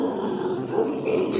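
A human voice mimics a lion's roar on stage: a steady, rough, low growl that holds loud and close for about a second and a half with no pauses.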